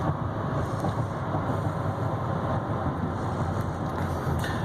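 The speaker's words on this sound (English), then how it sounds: "She accelerates pretty good." A 2015 Chevy Silverado 3500HD 4x4 dually with a Duramax diesel accelerates hard with its turbo working, producing a loud, steady, close engine rumble that holds for several seconds without talk.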